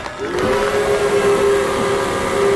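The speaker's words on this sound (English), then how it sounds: "Then there was one long and low whistle." A long, low steam whistle sounds steadily for a couple of seconds, holding one pitch with a faint hiss, with no voices.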